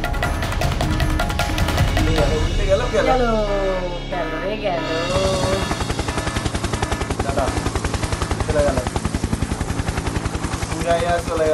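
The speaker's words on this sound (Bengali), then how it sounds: "হেলিকপ্টার উড়াইয়া চলে গেল।" A departing helicopter's rotor thumps in a steady rapid rhythm, loud and close, over people in a boat who shout and talk over it.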